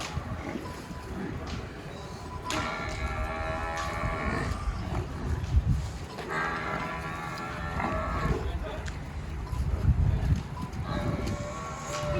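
Nili buffaloes on a farm near Lahore in Punjab, Pakistan, let out several long, drawn-out moos over steady wind and outdoor rumble, with people talking in the background.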